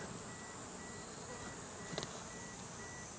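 Japanese cerana honeybees hum in a steady, faint drone just after their swarm hive is split, with a brief knock near the middle.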